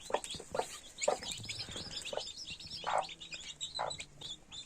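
Eleven small chicks cheep in quick, high, overlapping peeps close by, with a few louder clucks mixed in and no talking.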